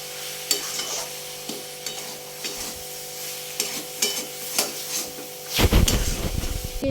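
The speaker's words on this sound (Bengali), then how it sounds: "গ্যাসে মাছ ভাজাটা বসিয়েছি" Fish frying in a pan on a gas stove in a home kitchen, with soft sizzling and scattered stirring or scraping clicks, building to a louder burst of spattering hiss near the end.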